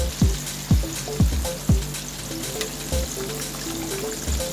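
KFC-style chicken drumsticks deep-fry in plenty of oil with a loud, constant crackling sizzle, broken by several dull knocks as pieces are moved or added, close up and with no voices.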